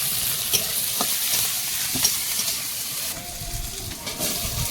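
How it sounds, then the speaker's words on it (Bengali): Chopped onion, garlic and green chilli sizzle steadily in hot oil, a dense, even frying hiss with a few soft spoon knocks and stirring scrapes, no voices. "তেলের মধ্যে দেবো পেঁয়াজ কুচি রসুন কাঁচা লঙ্কা"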